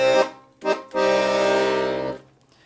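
Left-hand 120-bass buttons of a small cream Frontalini LM 41 accordion: two short punchy bass-chord stabs followed by a longer held chord, close and clear with no talking.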